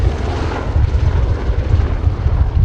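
An Army Air Corps WAH-64D Apache Longbow helicopter performs a flying display at RIAT 2019, filling the air with a loud, continuous, deep rotor and engine roar that pulses slightly throughout.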